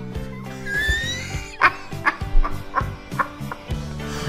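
A dog yips and whimpers close by, with a rising whine followed by a string of short, sharp yelps and bow-wow sounds in an uneven rhythm.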